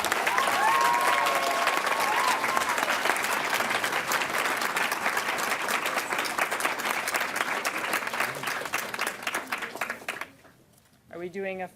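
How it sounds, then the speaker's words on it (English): Sustained audience applause fills a pharmacy graduation ceremony hall, steady and dense for about ten seconds before thinning out, with a few voices and whoops mixed in near the end. "Let's give a big round of applause to our graduates."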